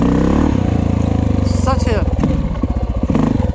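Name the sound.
dirt bike engine started with a kick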